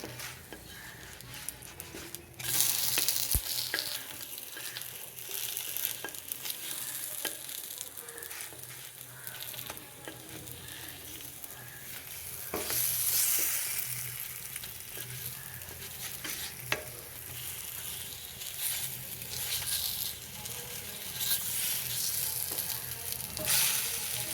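Pancake batter fries in a pan with a steady, bright sizzle that hisses continuously and swells a few times, punctuated by faint scrapes, with no voices.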